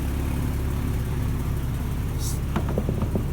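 A Porsche Boxster S with a swapped-in M96 3.2 engine runs steadily at idle up close, a continuous low rumble with a few brief clicks and knocks near the end.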